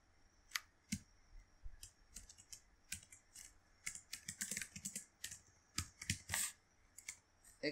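Fast, irregular clicking of keys on a computer keyboard while C++ code is entered, a dense run of light taps with short pauses, close and fairly quiet, with no talking.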